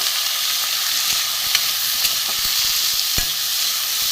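Vegetables with chopped tomato and small cubes of raw potato sizzle steadily in a pan, a continuous close frying hiss with a few faint stirring clicks and scrapes.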